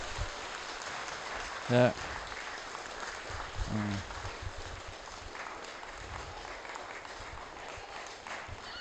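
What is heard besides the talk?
audience applause at a Christmas carol service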